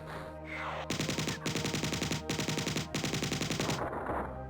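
Alien gun in the video game Marathon firing a sustained rapid burst of evenly spaced, loud electronic shots for about three seconds, with a brief charge-up before and a fading tail after, no talking.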